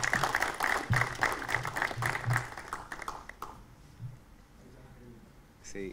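An audience at an intercultural event claps to welcome a guest speaker, a modest burst of applause that fades after a few seconds, followed by quieter room noise and a faint voice near the end.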